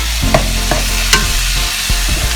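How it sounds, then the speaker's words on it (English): Carrots sizzle in hot curry paste in a pan for a vegetable curry, a loud constant close hiss broken by a few sharp clatters of utensil on metal, with no voices. "And then you put in the carrots first, because this is hot and so it has to boil first."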